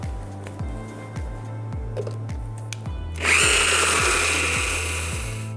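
A blender starts up with a loud whirring roar to whip pistachios into a thick cream, following a run of low rhythmic thumps, then grinding on steadily up close.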